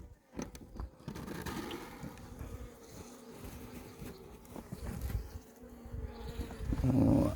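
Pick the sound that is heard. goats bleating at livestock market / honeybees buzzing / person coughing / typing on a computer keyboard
honeybees buzzing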